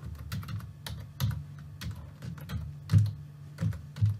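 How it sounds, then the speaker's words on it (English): Someone types a web address on a computer keyboard, a quick series of soft, close key taps in an irregular rhythm, with a few louder keystrokes standing out. "let's type pabbly.com in the browser"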